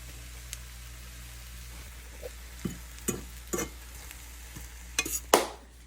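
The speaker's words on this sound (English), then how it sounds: "Now we're gonna make the sauce with butter," Chicken fried rice with butter, garlic and soy sauce being stir-fried in a pan: a few sparse, distinct scrapes and stirring knocks over a faint, steady background, with the last stir the loudest.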